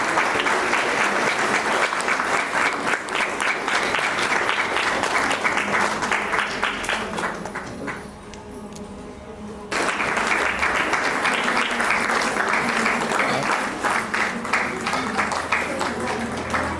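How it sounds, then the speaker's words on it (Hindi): A crowd at a worker-honouring award ceremony gives loud, sustained applause to welcome guardians, steady clapping that dips briefly to a quieter lull midway before surging back at full strength. "जोरदार तालियों से इनका स्वागत करने का काम करेंगे।"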